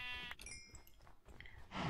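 Sheep bleating in the blocky video game Hexxit, a couple of bleats in short succession against a steady game background, with a louder burst at the end and no talking.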